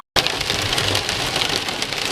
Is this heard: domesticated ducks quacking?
no